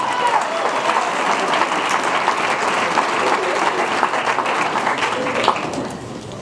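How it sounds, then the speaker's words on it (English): A crowd at a high school poetry slam bursts into loud, sustained applause with cheering, clapping holding steady for several seconds before easing slightly at the end. "Please make some noise for Morelia."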